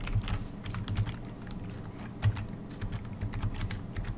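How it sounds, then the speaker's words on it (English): Function keys pressed on a computer keyboard of a DOS-era PC, a run of quick, irregular clicks and taps at close range with no voices. "I'm pressing the function keys to see what happens."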